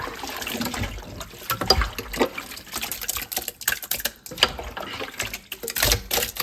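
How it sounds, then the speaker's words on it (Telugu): Water splashing and sloshing as chicken pieces are rinsed by hand, with irregular wet bursts and trickling, close up. "మళ్ళీ ఇంకొకసారి వాటర్తో కడుక్కుంటే"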